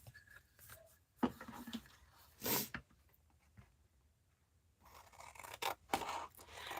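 Scissors snip through material in a few quick, crisp cuts separated by quiet pauses, close by, with light scraping and handling noises between.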